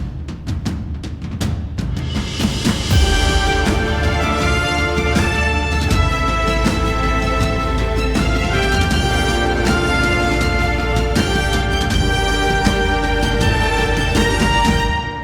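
Epic orchestral music built on simple chords swells in after a quiet start, becoming a loud, dense, sustained wall of sound with steady driving pulses throughout.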